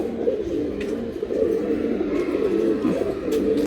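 Fancy pigeons kept for sale coo in a steady, low, throaty murmur, several birds close by and overlapping continuously, with no talking.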